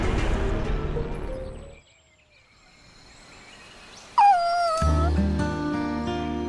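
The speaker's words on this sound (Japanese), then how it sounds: "シバコは梢様の飼い犬" A small pet dog in a visual novel video game gives a brief high whimpering whine, heard once after a quiet pause and then followed by swelling background music.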